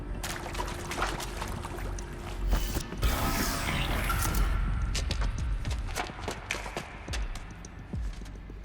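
A powered door mechanism in Horizon Zero Dawn grinds and clanks open with ratcheting, creaking metal, steady and fairly loud over a dense game soundscape.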